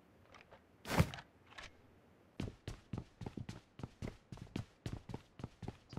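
A run of quick, regular footsteps in the mobile game Metro Royale, close and crisp, preceded by a louder burst and a few scattered taps.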